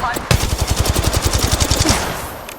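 Automatic gunfire rattles in the mobile game Apex Legends Mobile, a loud, rapid, evenly spaced burst of shots lasting about two seconds, close up, with a brief game voice line heard.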